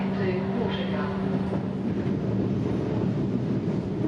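Comeng Metro suburban train running on a service to Watergarden, a steady rumbling interior drone with a faint tonal hum, continuous and fairly loud, with a voice briefly audible under the noise.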